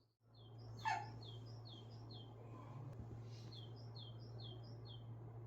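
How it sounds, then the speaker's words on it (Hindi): Birds chirp outside a slightly opened window in the early morning, repeated quick high tweets in short bursts over a steady low hum, faint and fairly distant, with a single dog-like yelp early on and no talking. "मैं यहाँ बर्ड्स की आवाज़ सुन रही थी, इतनी खूबसूरत आवाज़ आ रही थी परिंदों की"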